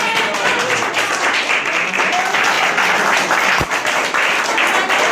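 Children at a vaccination camp clap loudly and continuously as a dense, sustained wash of applause, with voices mixed in throughout.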